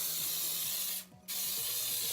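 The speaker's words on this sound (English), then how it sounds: "that's this spray adhesive" A can of Dollar Tree spray adhesive hisses in steady bursts for moss craft work, briefly pausing midway before the spray resumes, close and loud without any talking.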